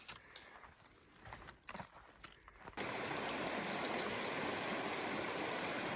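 The Dearborn River rushes along, a loud, steady broadband roar that takes over abruptly after a few seconds of quieter footsteps and rustling on the trail.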